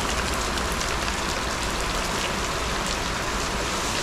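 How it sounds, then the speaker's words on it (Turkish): Heavy rain pours steadily in Malaysia, a dense, continuous hiss close by with no break, heard while sheltering under a house during a hitchhiking trip. "Fena yağıyor ya."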